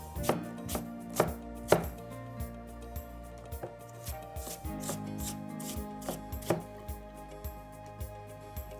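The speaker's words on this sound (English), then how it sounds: "So first we cut the apples, green apple." Knife chopping a green apple on a board, with a quick run of crisp cuts near the start followed by more scattered single chops against a faint steady background hum.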